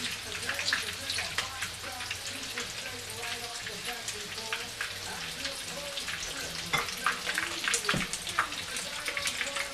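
Scotch eggs frying in a pan of hot oil, a steady dense sizzle with crackles and occasional bubbling pops, close and continuous without pauses.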